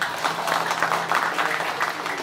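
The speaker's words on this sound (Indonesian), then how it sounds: "Kasih tepuk tangan dong" Audience clapping at a talk, a close, fairly loud patter of many hands with a rhythmic, pulsing texture, continuing steadily for a couple of seconds.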